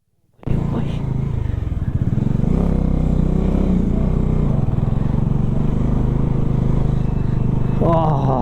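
Several motorbikes on a rough mountain road under construction, on the route between Kedarnath and Tungnath, rumble steadily at close range and move off slowly, a continuous low engine drone with a brief rise at the end.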